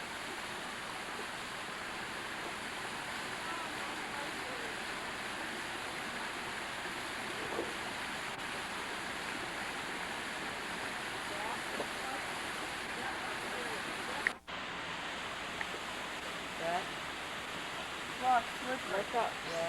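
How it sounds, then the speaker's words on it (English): A waterfall on a small island gives a constant, moderately distant rush of falling water, with a brief click partway through and faint movement near the end. "that's a pretty good waterfall."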